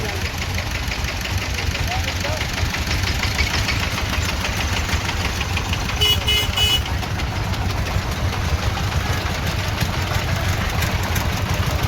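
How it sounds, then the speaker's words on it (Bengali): An engine van runs steadily on a road during a Bonbibi Puja procession in the Sundarbans, its engine chugging in a constant loud drone without pause. "এই যে আমাদের কিন্তু ইঞ্জিন ভ্যান, এইটা ইঞ্জিন ভ্যানটা করে কিন্তু আমরা আসছি।"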